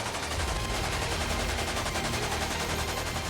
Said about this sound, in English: The constant sound of gunfire